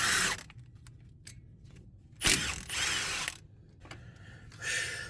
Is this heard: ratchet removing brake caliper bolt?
yes